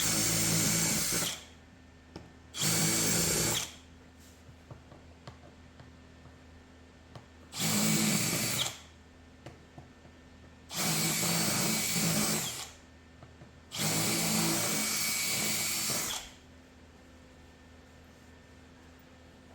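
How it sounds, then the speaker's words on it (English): A power drill drilling out rivets whines in five separate bursts of a few seconds each, close and loud, with quiet pauses between them. "I waste all kinds of time drilling out rivets"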